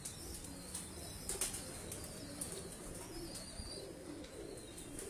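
An old racing pigeon flutters and beats its wings as it is handled at close range, with soft cooing and rustling between repeated flaps.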